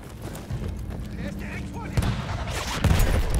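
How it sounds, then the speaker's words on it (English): Field guns and cannons fire in the Battlefield 1 video game. Dull booming blasts rise out of a dense, steady roar of battle, with the strongest thuds landing near the end. "Oh, there's some cannons. There's some field guns"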